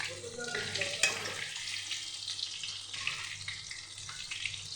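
Pumpkin pakoras fry in hot oil with a steady close sizzle and bubbling, broken by a few stirring clinks, throughout the clip.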